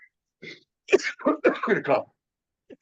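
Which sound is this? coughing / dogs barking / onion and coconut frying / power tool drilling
coughing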